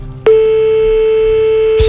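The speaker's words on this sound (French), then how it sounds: "C'est aussi la compile des numéros qui ne décrochent pas, Des sonneries." Telephone ringing tone of an unanswered call, a sudden steady electronic tone holding for about a second and a half before cutting off into a brief burst of noise.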